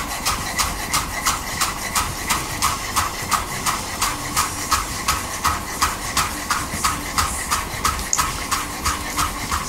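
Herbs being finely chopped with a knife on a board, a fast, steady rhythm of sharp close taps repeating evenly throughout, with no talk.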